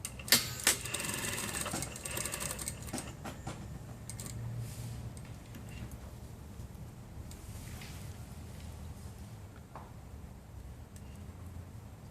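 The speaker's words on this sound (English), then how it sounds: "So I'll just match that up, and I'm just sewing from the edge here." Sewing machine stitching a shawl collar from the edge, a quiet rapid mechanical chatter with a few sharp clicks at the start, running steadily in the background.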